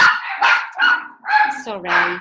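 A dog barks repeatedly at the window as the postman arrives indoors, four or five loud, close yapping barks in quick bursts with short gaps between them.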